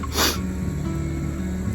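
A single sharp sneeze from a ragweed allergy, a short loud burst of breath up close, then the low background hum of the room.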